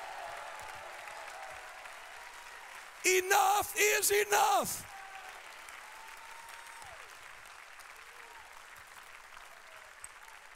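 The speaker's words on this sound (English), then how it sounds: "Clap your hands, all ye people." An evangelist's church congregation claps and cheers continuously throughout, with a loud shouted exclamation from a preacher cutting through briefly near the middle.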